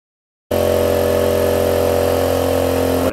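Air compressor starting abruptly after a short silence and running with a loud, steady motor hum and buzzing tones, continuing unchanged to the end with no voices.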